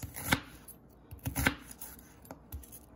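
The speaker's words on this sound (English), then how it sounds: "Now we're going to take one medium onion and we're just going to cut this up." A kitchen knife slices through a peeled medium onion on a cutting board in a few crisp, close chops spaced roughly a second apart, with quiet pauses between strokes.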